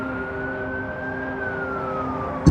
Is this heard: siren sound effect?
yes